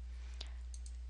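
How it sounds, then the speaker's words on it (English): A single keyboard key press, one sharp click followed by a couple of fainter ticks, close and isolated over a steady low electrical hum. "So just hit 0 on your keyboard"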